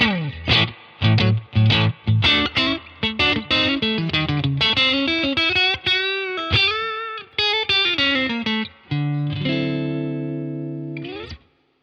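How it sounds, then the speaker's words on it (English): An electric guitar played through a digital speaker cabinet emulator, with a run of clipped, distorted notes and chords that ends on a sustained chord, loud and close with no voices. "So here's the digital speaker. So it sounds like this."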